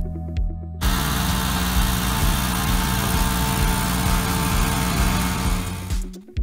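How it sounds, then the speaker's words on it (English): An old potato planter works in a farm field, its engine giving a loud, continuous drone with a steady mechanical rumble that starts abruptly and runs evenly before dropping away at the end. "you see potato planting being done with an old but reliable potato planter"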